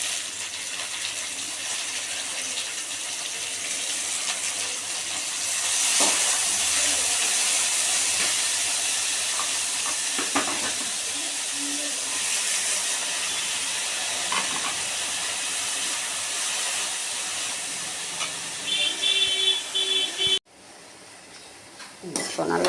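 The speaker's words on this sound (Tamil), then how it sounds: "எண்ணெயில் வதக்கணும்." Strips of carrot and capsicum sizzle in hot oil in a pan, a steady close hiss with occasional stirring scrapes, fading into a brief pause near the end; no voice over it.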